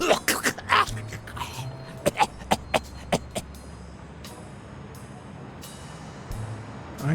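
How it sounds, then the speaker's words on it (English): A character in the game Blacksad: Under the Skin gives a run of harsh, close coughs, followed by sparse clicks and light sounds over a quiet background hum. "You've got one nasty cough."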